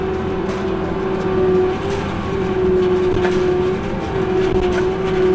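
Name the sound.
disc mulcher spinning up to full RPM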